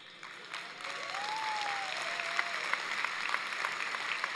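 Audience applause at a conference session, steady clapping from a crowd held at moderate level throughout, with a faint sustained tone drifting over it and no speech.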